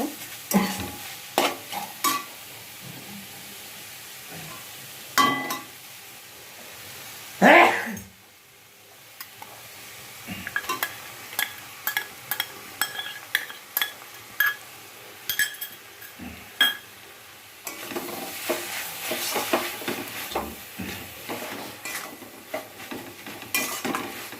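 Ground poppy seed paste stirred in a hot pan, a spatula scraping and clinking against the metal in quick repeated strokes over a low steady sizzle, with one brief louder burst of frying partway through.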